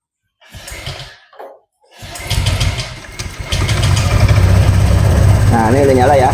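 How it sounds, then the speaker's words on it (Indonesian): A Honda Vario 125 scooter engine cranks and catches after a short pause, then settles into a steady, close idle while a person talks over it. "sekarang kita nyalakan mesinnya"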